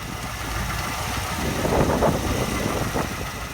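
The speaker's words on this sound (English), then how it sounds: "you can actually see the engine running, that it's smooth, it's now idling" A steady, low V8 engine rumble from a 1977 MGB with a 4.0L Rover V8 idles smoothly and continuously, fairly close, with a slight swell in the middle and some wind buffeting.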